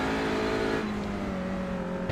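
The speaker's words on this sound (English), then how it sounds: "you can hear there the Audi constantly revving almost up towards what is the top of the gears" An Audi touring car engine in the iRacing sim, racing at Oran Park, revs loud and steady near the top of its gears, a sustained droning whine with a slight pitch drop partway through.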